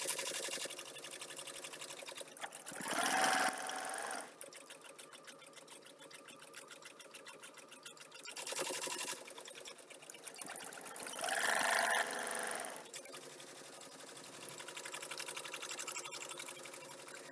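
A sewing machine stitching fabric during a craft session runs in two or three loud bursts of rapid mechanical whirring, with quieter gaps between runs and no talk over it.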